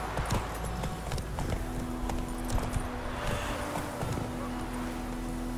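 Roach the horse from The Witcher 3 trots along with a continuous, rhythmic clip-clop of hooves over several seconds, close and steady beneath a soft ambient game wash.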